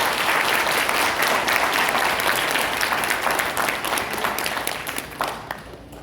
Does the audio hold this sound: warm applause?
yes